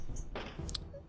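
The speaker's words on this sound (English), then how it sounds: "the sound of a door being locked" Door locking in the Shining the Holy Ark video game, a short clunky mechanical clack followed by a couple of bright metallic clicks over a low ambient game backdrop.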